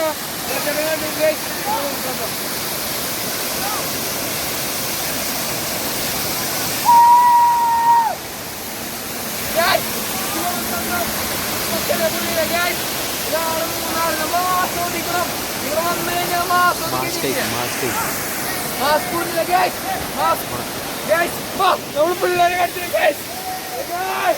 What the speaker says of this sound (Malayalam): ഇതാണ് വെള്ളച്ചാട്ടം. നമ്മളെ മൂന്നാറിത്തെ വെള്ളച്ചാട്ടം.